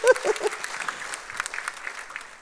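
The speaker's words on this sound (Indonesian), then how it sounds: "Tepuk tangan dulu untuk Pak Gembala kita nih." A church congregation applauding their pastor, a brief burst of clapping that starts strong and quickly thins out, with a few voices mixed in.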